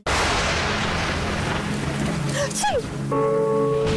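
Steady rain pours loudly and continuously throughout, a dense hiss of falling water with a few brief tonal chirps and whistles sounding over it near the end.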